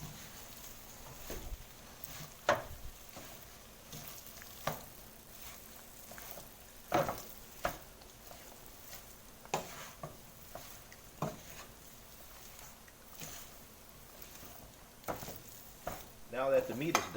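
Cooked beef filling for Jamaican beef pies is stirred in a pan, with faint quiet scraping and scattered sharp clinks of a utensil against the pan over a low sizzle.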